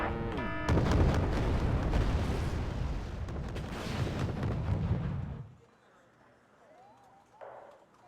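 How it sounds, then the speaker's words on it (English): Mortar artillery in the strategy video game Wargame: Red Dragon, set in a 1992 Second Korean War campaign: heavy rumbling blasts and booms pile up for several seconds, then cut off and leave a quieter background. "Let's bring in some mortars."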